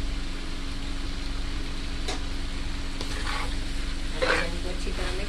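Chicken macaroni with black pepper being stirred in a pan, with intermittent spoon scrapes over a steady low hum and a faint sizzle, including a slightly louder scrape near the end.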